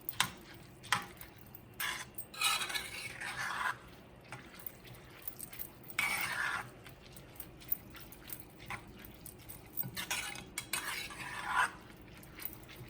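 Seasoning being stirred into rice in a pot, with intermittent scraping and clinking bursts of the utensil against the pot every couple of seconds, close up over a low background hum.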